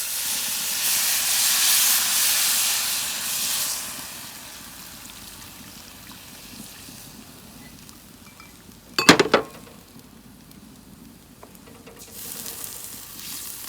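Vegetable broth poured into a hot paella pan on a grill, a loud hissing rush of steam and sizzle that fades into a softer bubbling simmer, with a sharp metallic clank partway through.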